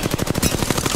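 Apex Legends weapon fire rattles in a fast automatic burst of roughly a dozen evenly spaced shots, loud and close, with no talking.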